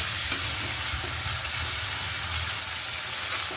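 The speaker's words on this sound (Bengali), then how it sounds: "দিচ্ছি সামান্য একটু লবণ দিয়ে ডাঁটাগুলোকে শুধুমাত্র হালকা করে একটু ভেজে নেব" Vegetable stalks with a little salt fry in a wok with a steady, loud, close sizzle and hiss, interrupted by a few faint stirring knocks and no talking.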